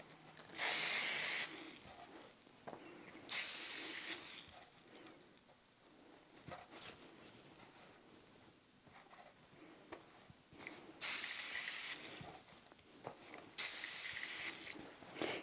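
Liquid starch is sprayed onto fabric prints in four quick hissing bursts, two near the start and two near the end, with quiet rustling and handling between them.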